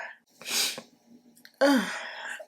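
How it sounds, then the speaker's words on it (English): A person sneezes twice in close succession, a sharp breathy burst followed by a louder voiced sneeze, close to the microphone. "I'm gonna sneeze."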